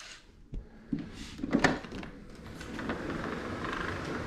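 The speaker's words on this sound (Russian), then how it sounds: "Открыли дверь." A hotel room balcony door opens with a few soft clicks and a latch knock, then faint outdoor ambience, quiet and close.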